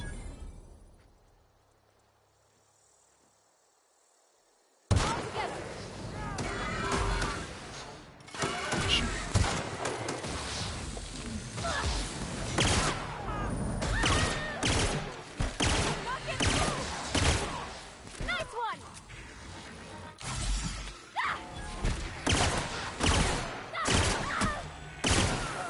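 Gunfire in The Outer Worlds video game: after a quiet opening, dense bursts of shots, impacts and crashes rattle on continuously, loud and busy, with occasional talk mixed in.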